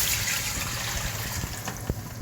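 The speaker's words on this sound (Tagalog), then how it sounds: "Lagyan tayo ng tubig." Water poured into a pot holding pork for sinigang, a close, continuous splashing and gurgling pour with a few small plops near the end, no one speaking.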